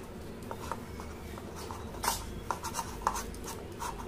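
Hands mix a dry, crumbly filling of roasted chickpea flour with green chili, ginger paste and salt, giving soft close rubbing and pattering sounds with a few faint taps at low volume.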